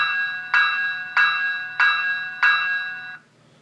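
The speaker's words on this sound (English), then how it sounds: "But here's your E bell." The E bell of an Athearn Genesis SD70ACe model locomotive with sound, Union Pacific 1996 Southern Pacific heritage unit, rings four times at a slow, steady pace, each clear metallic chime decaying before the next, then silence.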